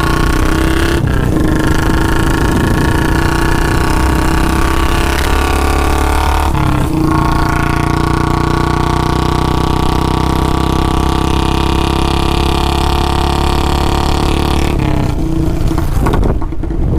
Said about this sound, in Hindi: बीट सुनो बुलेट की, आवाज़ सुनो।